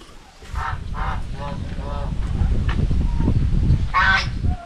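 Farmyard geese kept among ducks, turkeys and chickens give several loud, nasal honks, a few close together early and another near the end, over low background noise.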